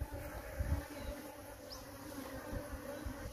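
Young bees from a colony nesting inside an electric pole buzz in a continuous close hum, with a few louder thumps and rustles near the start.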